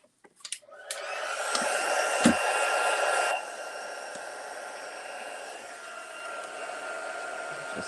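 A handheld heat embossing tool blows over embossing powder on Versamark ink, a steady close-up hot-air whir that starts loud after a few clicks and then drops to a slightly softer, even hum until the end.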